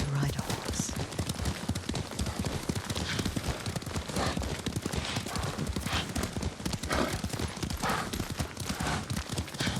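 Rapid, steady clip-clop of a galloping horse in Ghost of Tsushima, loud and close throughout, with characters talking over the hoofbeats.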